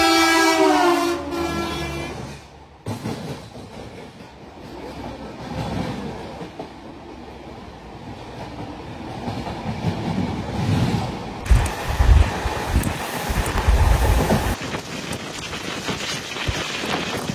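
Train pulling out of Samalkot Junction, heading toward Rajahmundry: a loud horn blast at the start, then steady rumbling and clattering of the rolling cars, growing rougher and louder toward the end. No talk.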